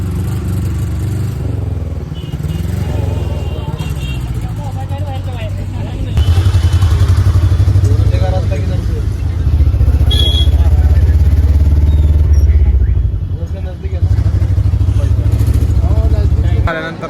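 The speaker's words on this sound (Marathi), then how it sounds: "गाडीचा आवाज बघा कसा" Car engine rumbling loud and close from inside a moving vehicle on a pilgrimage trip around Ujjain, with rattling and clatter throughout and passengers talking over the noise.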